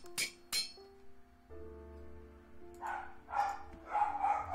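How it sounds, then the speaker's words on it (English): Dogs barking in Minecraft, several short yaps toward the end, faint and a little distant, following sharp clinking sounds and quiet game tones. "my dogs are going nuts for no reason"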